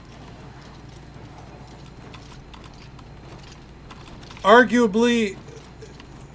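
Steady clip-clop of horse hooves trotting throughout in the video game Oblivion Remastered, with a short spoken word over it near the end.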